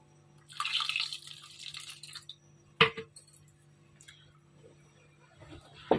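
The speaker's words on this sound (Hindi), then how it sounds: "दाल हमें थोड़ी गाढ़ी लग रही है, इसमें हम थोड़ा पानी शामिल कर देते हैं।" Water poured into thick lentil haleem in a cooking pot. A soft splashing pour is followed by a few sharp clinks and drips, close and moderately quiet, with no talking.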